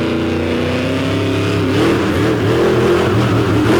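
A monster truck with a big J&B chassis revs hard at an Overdrive Monster Trucks show, a loud continuous engine roar whose pitch climbs and wavers midway through.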